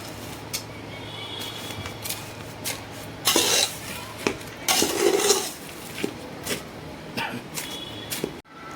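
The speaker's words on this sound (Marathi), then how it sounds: "हे आपण सगळे पदार्थ जे भाजले होते ते एकत्र करून आपण आता मिक्स करतोय" Dry fruits and dates roasted for ladoo get stirred together in a metal pan, with steady scraping and clinking of a spoon against the vessel, louder bursts around the middle, close and alone without talk.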